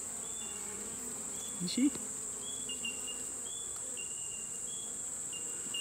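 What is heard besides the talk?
bees buzzing around a beehive nuc during inspection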